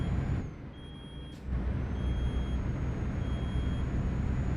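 A heavy truck in Euro Truck Simulator 2 idles with a steady low engine rumble while high electronic warning beeps repeat at intervals as air pressure builds, with a short hiss of air near the start; no one talks.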